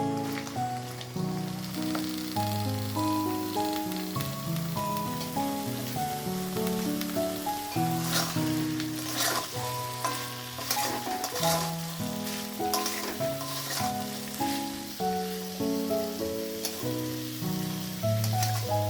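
Figs frying and being stirred in a pan for a Bengali fig curry give a steady, soft sizzle with occasional scrapes, running under continuous melodic background music.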